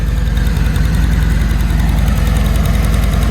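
A 2021 Harley-Davidson Road Glide Special sits idling with a steady, low, loping engine rumble and faint mechanical rattle, loud and close throughout, with no talking.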